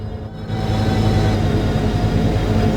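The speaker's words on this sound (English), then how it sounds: "This is what the dynamic train sounds like when you have dynamic brake." Metrolink EMD F125 locomotive in Train Sim World 4 with dynamic braking engaged, a loud steady low rumble and droning hum that swells in after a brief quieter moment and holds evenly.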